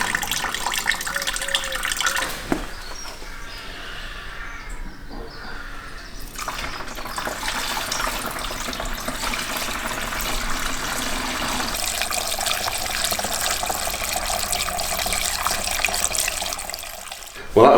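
Fuel from a BMW E30 tank pours steadily into a 12-litre bucket, a continuous close gushing rush of liquid that runs unbroken throughout.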